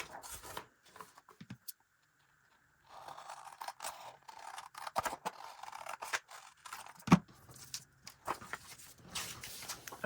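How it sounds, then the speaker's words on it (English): Scissors trim the edges of printed paper PDF sewing pattern pages, a quiet run of irregular snips and scrapes separated by short pauses, with no talking. "I also need to trim the top of these pattern pages."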